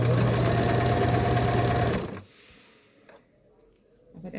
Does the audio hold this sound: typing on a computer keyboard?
no